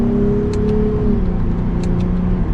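A 2022 Lexus IS 350 F Sport in sport mode gives a steady, subdued engine and exhaust drone while driving, fairly loud but smooth, with no talk.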